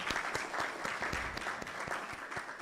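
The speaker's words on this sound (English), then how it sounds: "we need to give him another round of applause." An audience at a youth leadership awards ceremony in Jamaica gives steady, fairly faint applause, many hands clapping together without pause.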